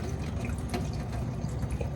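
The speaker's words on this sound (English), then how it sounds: "I'm going to carefully pour the water off" Water from boiled carrots poured off into a kitchen sink, a steady splashing trickle with faint drips, close and continuous without talk.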